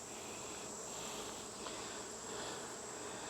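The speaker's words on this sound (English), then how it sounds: "There'll be a few random bees inside the box." Bees fly around an opened honey box during a honey harvest, giving a steady, even insect buzz that holds for the whole stretch at low volume with no voices.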